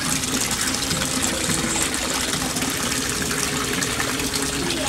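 A Resun aerator pump bubbling water in a koi pond makes a dense, steady rush of bubbling and splashing that runs loud and unbroken throughout.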